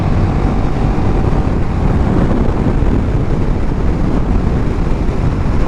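A 2017 KTM 1290 Super Duke GT motorcycle ridden hard, its engine a steady loud roar buried in heavy wind rush across the microphone, continuous throughout with no voices.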